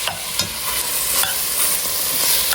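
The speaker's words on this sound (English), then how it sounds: "the ground beef is cooking away" Ground beef sizzling in a pan for a cheeseburger soup, a loud, close, continuous frying hiss broken by a few scraping stirs of a utensil near the start.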